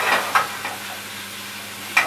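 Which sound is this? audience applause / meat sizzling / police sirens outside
meat sizzling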